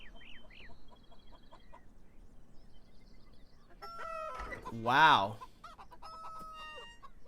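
Chickens cluck and a rooster crows in the Beyond Eyes video game, with scattered clucks early on and a louder burst of crowing and squawking near the middle, while a voice briefly exclaims.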